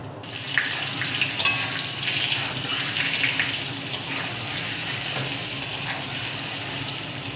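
Potato pieces rubbed with salt, red chilli powder and turmeric fry in hot oil, giving a steady, even sizzling hiss that carries on without a break and with no voices.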